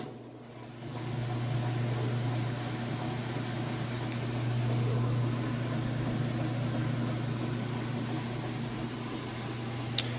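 A Whirlpool washing machine on its spin cycle gives a steady mechanical whir with a low hum, the drum spinning fast, even and unbroken with no voices.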